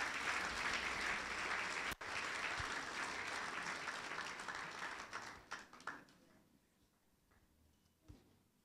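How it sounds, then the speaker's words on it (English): Church congregation applauding during a Baptist resurrection celebration service, steady sustained clapping for about six seconds before tapering off into scattered claps and near silence. "A round of applause for the Benjamins, everyone."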